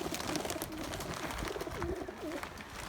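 Several pigeons cooing steadily outdoors by a loft, soft repeated low coos overlapping one another in a near, continuous chorus with no talking.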